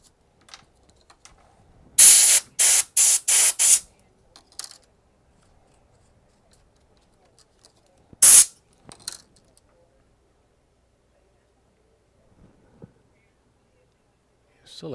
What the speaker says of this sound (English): I hate this air compressor.